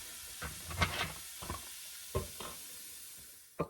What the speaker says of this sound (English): Ooh, it sizzles.